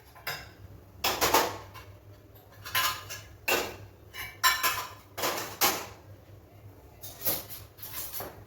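Washed dishes and pots being put away in a kitchen: a series of separate metallic clanks and clatters at irregular intervals, close and fairly loud, with quiet gaps between.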